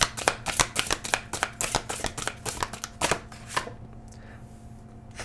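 Tarot oracle cards riffled and shuffled up close in rapid crisp flutters, then a card drawn from the deck as the sound thins out into quiet.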